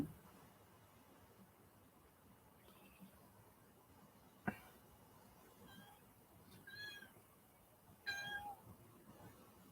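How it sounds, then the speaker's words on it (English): A pet cat named Jinky meows several times outside a door wanting to come in, short rising calls spaced apart, fairly close but quiet, with a sharp knock and faint background hiss. "Got a cat here, keep wanting to come in."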